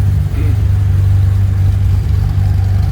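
A 1973 Holden Torana GTR XU1 sits close by with its engine running in a steady, loud, deep rumble that swells slightly. No voices are heard.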